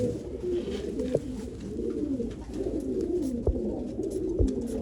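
Several pigeons coo in low, rolling, overlapping phrases close by, with a few faint clicks and taps of birds moving in between.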